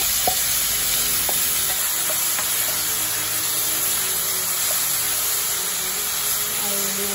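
A home stir-fry snack sizzles steadily in a hot pan as homemade seasoning is added, a loud continuous frying hiss with faint stirring scrapes throughout.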